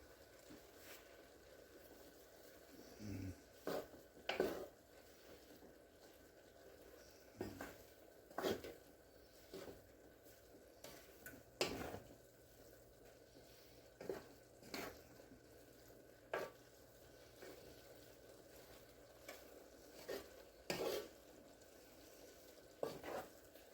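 A spoon stirs Creole seasoning and smoked paprika into a pot of Hoppin' John, giving quiet, irregular scrapes and clinks against the pot with soft sizzling between strokes.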